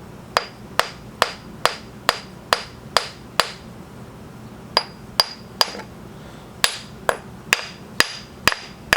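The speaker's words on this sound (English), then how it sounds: "I'm just going to lightly take a hammer" Light hammer taps on a cracked St. Helens moss agate rock, a steady series of crisp ringing strikes with a short pause midway, close and clear with no talk.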